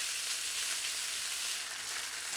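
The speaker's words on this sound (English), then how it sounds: "I just love the sound of food being fried in a wok." Pork and vegetables sizzle and fry in a hot wok, a dense, steady hiss of crackling oil that stays loud and close throughout, with no talking.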